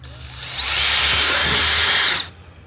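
A power drill whirs at high speed for about two seconds while drilling an ATV rear fender, rising to a steady whine before cutting off abruptly.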